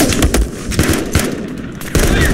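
Rapid machine-gun bursts ring out in the video game Mud And Blood. Loud volleys come in quick clusters with brief gaps, and a bigger burst lands near the end.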